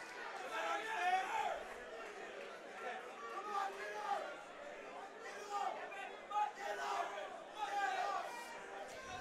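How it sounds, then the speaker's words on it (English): Rowdy crowd at a wrestling match, Cjay Hunter against Irfan Mulabitinovic: steady murmuring babble with scattered shouts swelling and fading throughout, moderately loud and continuous. "This crowd's getting a little rambunctious."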